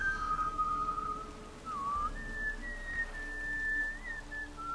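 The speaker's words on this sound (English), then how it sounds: "He's whistling his own theme song" A character, Master Mirror in the Witcher 3 video game, whistles a clear, wavering melody. The tune is soft and steady and shifts between a few sustained notes, with no talk over it.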